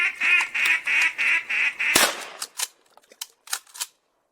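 A flock of mallard ducks quacks in a rhythmic series of loud nasal calls in flooded timber, followed by a sharp shotgun blast and then scattered, fainter quacks and splashy noises.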